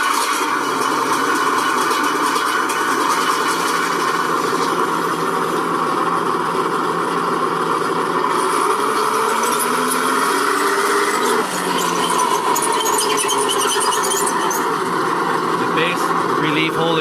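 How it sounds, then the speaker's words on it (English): The engine-start effect from an RC tank's battery-box speaker rumbles steadily and loudly, with a whine that rises in pitch partway through as the simulated engine revs up. "Engine start."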